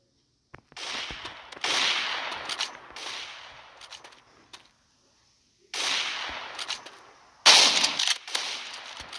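Shotgun gunfire in the mobile shooter game Maskgun, heard as several sharp loud blasts, each followed by a decaying tail of rattling reverb, spaced a few seconds apart with short quiet gaps between.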